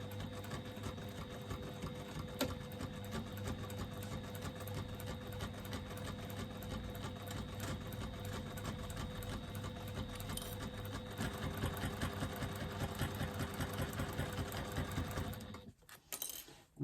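A sewing machine stitching a seam with a 3/8-inch allowance, running in a steady fast rattling rhythm for a long stretch, then stopping abruptly near the end with a brief clunk.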